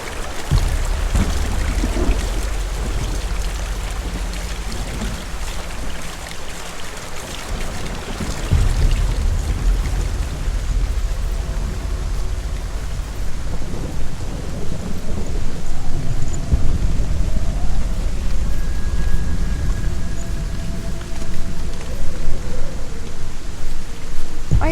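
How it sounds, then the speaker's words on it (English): Rushing waterfall in the video game Hellblade: Senua's Sacrifice, a loud, dense, steady roar of pouring water that fills the whole stretch with no pauses. "putting it in a waterfall"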